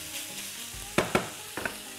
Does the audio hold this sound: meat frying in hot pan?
yes